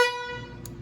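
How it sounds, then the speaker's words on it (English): New vehicle horn triggered through a relay bypass, one loud, bright honk that starts abruptly and quickly fades into low background rumble. "Okay, I got the new horn hooked up."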